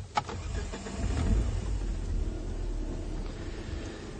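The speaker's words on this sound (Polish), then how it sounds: "Zapalę samochód, ponieważ ten samochód ma wspomaganie" A car engine with power steering cranks and catches early on, then settles into a steady, rumbling idle close by, with no talking over it.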